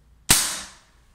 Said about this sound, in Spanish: vamos ahora a realizar un disparo con un balín más liviano de 15 grey